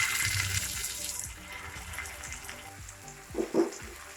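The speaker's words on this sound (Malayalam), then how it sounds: "ഇനി നമ്മുടെ എണ്ണയിലേക്ക് നമ്മൾ മാരിനേറ്റ് ചെയ്ത് വെച്ചിരിക്കുന്ന ചിക്കൻ ഓരോന്നായിട്ട് വെച്ച് കൊടുക്കാം" Marinated chicken pieces for a Kerala-style dish are laid into hot oil, giving a bright, close sizzle that is strongest at first and then settles into a softer crackling bubble, with a couple of small clatters near the end.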